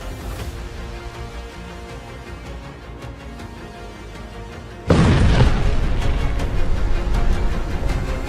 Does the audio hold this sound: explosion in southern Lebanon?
yes